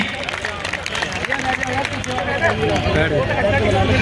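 Audience applause rises and holds for a few seconds at a crowded Buddhist sermon gathering, a dense, steady wash of many hands clapping close by with a low murmur underneath.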